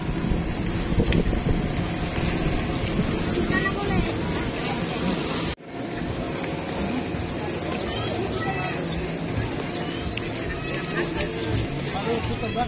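Fishing boat outboard motors drone across open water amid wind buffeting the microphone and lapping waves, with voices talking over the steady engine noise during a boat parade.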